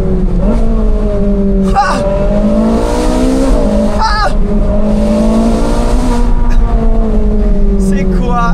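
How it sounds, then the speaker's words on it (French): A Ferrari sports car's warm engine revs on a drive through the hills above Monaco, its loud, steady harmonic note climbing and surging as a voice gives short exclamations over it. "Le moteur, il est déjà chaud"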